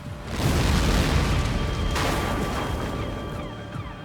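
Van bomb packed with over 220 pounds of explosives going off at a building, one heavy deep boom that rolls on as a long rumbling roar before fading, with no voices.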